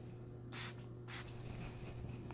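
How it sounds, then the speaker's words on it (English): Two quick, hissing perfume spray bursts onto an arm about half a second apart, close and crisp over a low, steady background hum. "spray it on my arm and see how it smells"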